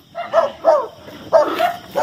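A dog barks in a run of four or five fairly close, moderately loud yips and woofs spaced irregularly, with low background murmur and no clear talk.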